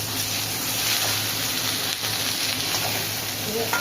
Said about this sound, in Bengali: ভিন্ডিটা ভাজা ভাজা হয়ে গেছে, প্রায় 4 মিনিট মতো এতে ভেজে নিলাম।